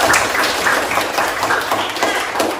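A classroom of students applauds a classmate, steady rhythmic hand clapping at moderate volume continuing throughout with no talk over it.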